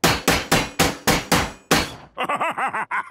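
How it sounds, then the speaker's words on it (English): A cartoon rabbit builds a flying machine to the sound of a hammer: six loud, evenly spaced bangs and then a seventh, followed by a short burst of springy, bouncing cartoon tones. "you just bash it all together with a hammer"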